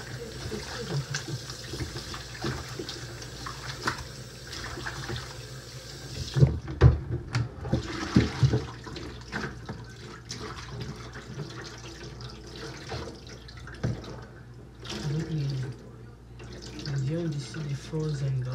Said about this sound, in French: il faut toujours commencer avec de l'eau chaude